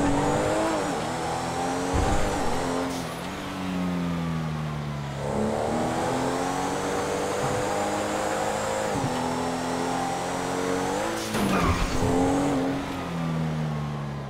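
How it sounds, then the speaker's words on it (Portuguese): An Audi A3 in a realistic driving video game, with traffic turned off, accelerates flat out toward high speed, its engine rising through the gears in repeated sweeping climbs that continue steadily and loudly throughout. "Desativei o trânsito, porque aí a gente consegue acelerar o carro no máximo."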